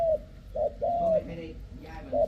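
Several soft, low coos from a dove, spaced in a slow rhythm and heard close up.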